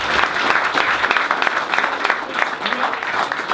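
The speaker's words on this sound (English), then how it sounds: "Another round of applause for him." Lively audience applause for a speaker at a tech meetup, dense clapping throughout with bursts of intensity, close and loud, with some voices mixed in.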